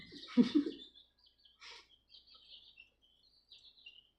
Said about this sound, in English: You hear the chirping babies?